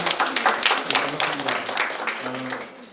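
A crowd at a public debate on an ordinance for preventing elder abuse in Seoul gives a burst of scattered clapping that tapers off. A voice talks over the applause.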